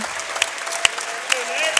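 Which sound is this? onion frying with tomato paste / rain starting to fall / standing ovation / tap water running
standing ovation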